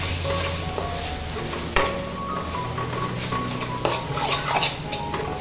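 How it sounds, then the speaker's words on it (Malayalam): Egg being stirred and fried in a pan over low heat for egg chilli rice, a steady close sizzle with scraping stirs and a couple of sharp clinks of utensil on pan. "ഇതിനി ഒന്ന് ചിക്കി പൊരിച്ചെടുക്കുക"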